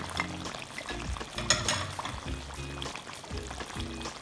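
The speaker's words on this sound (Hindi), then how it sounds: "दही डालकर इसको 2-3 मिनट के लिए भून लेते हैं" Chicken karahi with yogurt, garam masala and black pepper sizzles and fries in a pan, with a steady crackling sizzle and occasional stirring scrapes throughout.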